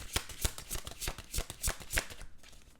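A deck of oracle cards is shuffled by hand in a quick run of crisp riffling bursts, about ten distinct slaps in steady rhythm, close and clear, with no talking.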